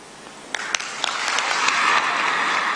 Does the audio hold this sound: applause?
yes